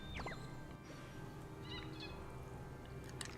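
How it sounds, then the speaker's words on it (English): A bird in the video game Honkai: Star Rail gives a few short, faint chirps near the start and middle over a quiet, steady ambient bed. "I hear a bird."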